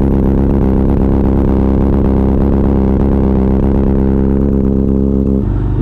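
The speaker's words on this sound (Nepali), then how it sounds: "सो अहिले चाहिँ मेरो बाइक एकदम कोल्ड स्टार्ट सुरु भइरहेको छ" A motorcycle engine idles loudly and close after a cold start, a steady throbbing drone with slight vibration and clatter that drops abruptly near the end.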